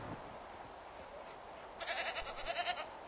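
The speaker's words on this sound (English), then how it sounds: "Go home, goat. You're drunk." A goat in Assassin's Creed 3 lets out a short, faint wavering bleat after a quiet stretch of ambient game sound.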